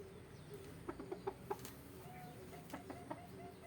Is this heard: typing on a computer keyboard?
no